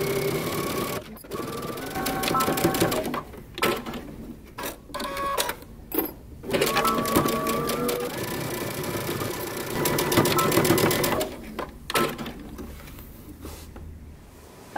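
A sewing machine stitches the side seam of wide-leg pants at a 5/8-inch seam allowance, running in steady close bursts broken by short pauses, with no talking.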